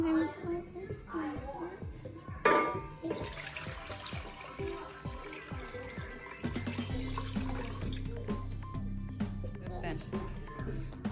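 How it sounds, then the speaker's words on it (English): Water pours and splashes into a container in a kitchen while pretzels are being made, a continuous liquid rush with clatter and children and an adult talking over it. "I'm gonna pour this in."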